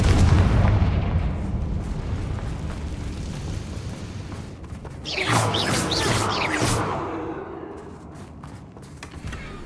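A Confringo fire spell bursts in Hogwarts Legacy, a loud whooshing blast with a rumbling explosion midway, set against a steady low game rumble and no talk.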